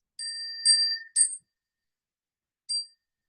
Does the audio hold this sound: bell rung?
yes